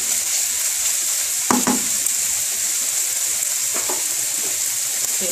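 Onions frying with beef in a pan for hibachi-style fried rice, a steady bright sizzle close by, broken by a few clicks and scrapes of stirring.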